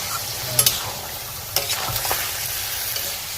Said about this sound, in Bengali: চিকেনটাকে ভালোভাবে আধ ঘন্টা ধরে কষিয়ে নিতে হবে, যেন পেঁয়াজ টমেটোটা এর মধ্যে গলে যায়।